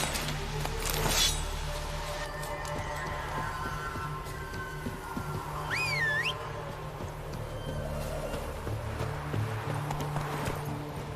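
Horse hooves clip-clopping in The Witcher 3, a steady rhythmic patter under a busy game soundscape with music and ambient effects, moderately loud throughout.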